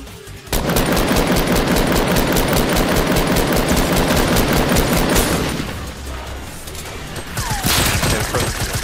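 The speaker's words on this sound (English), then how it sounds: "He's shooting at us." Rapid automatic gunfire from an enemy player in Fortnite rattles loud and close as one sustained burst for about five seconds, then scattered shots and further bursts follow.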